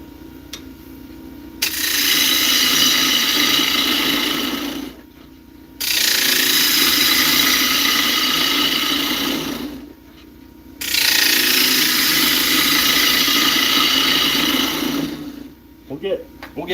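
A wood lathe turns an Easter bowl, the tool biting in three long, loud cutting passes of steady scraping whir, separated by brief quieter pauses, with a short lighter scrape at the end.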